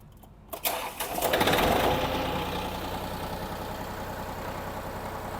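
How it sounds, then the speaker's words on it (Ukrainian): A small Iseki mini tractor engine cranks, catches and settles into a steady, rumbling idle close by. "Тут варто просто навіть завестися і послухати, як працює двигун."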